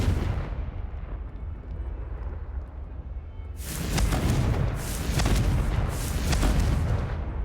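A Confringo fire spell blasts in Hogwarts Legacy: a low rumbling roar gives way to a loud, sustained burst of booming, crackling explosions that keeps going to the end, with no talk over it.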